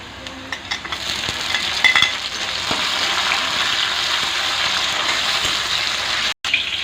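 Onions and green chilies fry in a pan, giving a steady, fairly loud sizzle that runs almost without a break and stops for a moment near the end.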